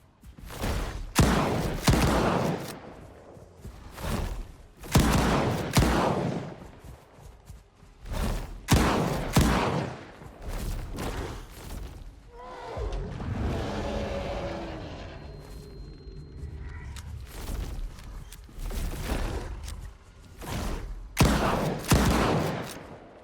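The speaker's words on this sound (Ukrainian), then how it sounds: "Що стосується RAM 2 він стріляє по два постріли." Loud gunshots from a rifle firing two consecutive shots in S.T.A.L.K.E.R. 2 ring out in short bursts separated by brief pauses, with a stretch of quieter mechanical rumble midway.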